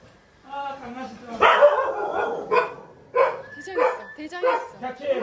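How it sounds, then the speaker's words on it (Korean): A dog barks and yips in a series of short, loud, close barks with whimpering tones, interleaved with people talking nearby. "강아지도 있어."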